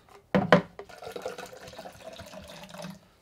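Water pours into a bottle after a couple of sharp clunks, a soft close trickle and gurgle that fades out within a few seconds.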